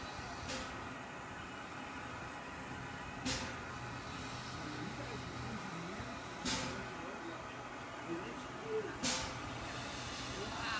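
Tweetsie Railroad No. 12 steam locomotive idling: a steady, faint hiss and low rumble from a distance, with a few sharp clanks or puffs spaced through it and soft voices murmuring in the background.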